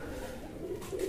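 Pigeons coo on an open rooftop loft, giving a brief, soft, low murmur of calls nearby.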